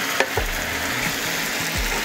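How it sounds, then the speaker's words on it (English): Wine sauce for lamb chops simmers in a hot pan, a steady close frying hiss with a few soft low bubbling pops and a faint scrape, no voices. "As you can see, it's starting to bubble on this side."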